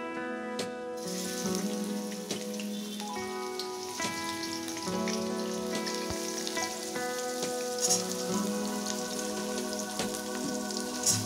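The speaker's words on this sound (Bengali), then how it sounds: "দেখো, আমি পেঁয়াজগুলোকে কড়ায় তেল দিয়ে ভাজছি" Onions fry in oil in a wok with a steady, close crackling sizzle like rain on a surface, and occasional clinks of stirring, with no talking.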